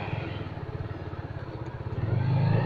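A Benelli TNT 250 motorcycle engine putters at low speed with a steady, pulsing rhythm close by, then swells slightly louder toward the end as it revs.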